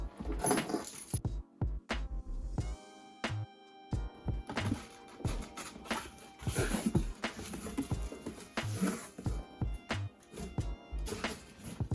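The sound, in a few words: keys jangling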